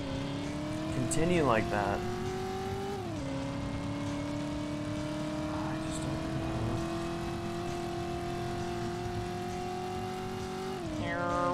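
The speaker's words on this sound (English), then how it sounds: "There's that car again." Car driving in the RPD Driver game, a steady engine drone that shifts pitch with gear changes and occasional brief tire squeals, with someone talking over it.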